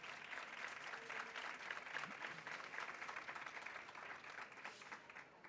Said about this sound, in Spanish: por favor, un aplauso para este panel que nos acompaña hoy aquí